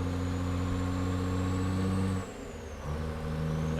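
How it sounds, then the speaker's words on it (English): A loud, droning Peterbilt 359 truck engine in American Truck Simulator, with modded engine sounds, rumbles steadily, dips briefly as if shifting gears, then resumes its hum. "We got Z mods for our engine sounds."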